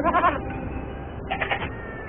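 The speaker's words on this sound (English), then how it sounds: "During the summer months, blue sheep called Barul graze on the steep slopes to the north of the kingdom." Blue sheep, the bharal of the Himalayas, bleat in two bursts, a wavering cry at the start and another after a pause, fairly close and clear over steady background sound.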